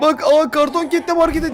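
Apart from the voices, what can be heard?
No everyday noises stand out.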